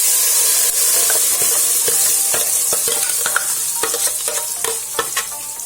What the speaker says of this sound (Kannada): ಸಾಸಿವೆ ಎಲ್ಲ ಸಿಡಿದ ನಂತರ ಈ ಮಸಾಲವನ್ನು ಇದಕ್ಕೆ ಸೇರಿಸ್ಕೊಳ್ತೇನೆ ಒಗ್ಗರಣೆಗೆ